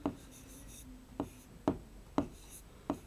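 Pen strokes writing numbers by hand for a class 3 maths lesson, five short distinct scratches spaced about half a second apart, close and fairly quiet with faint room noise.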